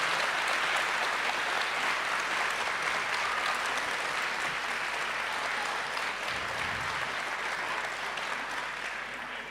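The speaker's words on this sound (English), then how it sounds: "On peut l'applaudir déjà avant même qu'il ait parlé." Loud, dense applause from a large audience, a continuous wash of clapping that holds steady and eases slightly near the end.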